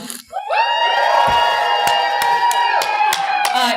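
A live audience at a C2E2 convention podcast taping yells and cheers loudly all at once, a sustained roar of shouting voices with a few claps mixed in before it tapers slightly.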